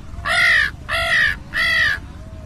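A human voice imitates a crow, giving three loud, evenly spaced nasal caws close to the microphone, each about half a second long, with short pauses between.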